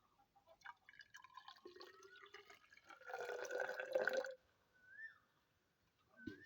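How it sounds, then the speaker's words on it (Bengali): Water poured into a bamboo tube for cooking noodles, a faint close trickle that rises into a short, fuller gurgling fill before stopping, followed by a few scattered drips. "প্রথমে দিয়ে দেবো এর মধ্যে একটু জল"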